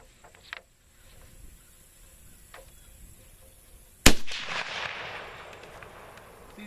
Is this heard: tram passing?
no